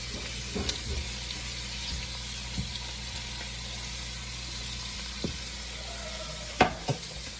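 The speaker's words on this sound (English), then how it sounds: "As you can see, the shrimp are cooking." Shrimp cooking in a hot pan for jambalaya, a steady broadband sizzle throughout with a few sharp utensil taps and clicks standing out near the end, no talk.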